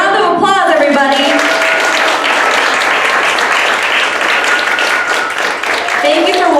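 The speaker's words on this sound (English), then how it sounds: "Round of applause" Loud, continuous applause rises from the audience at a Korean traditional hanbok fashion show, with a host's amplified voice briefly heard at the start and again near the end.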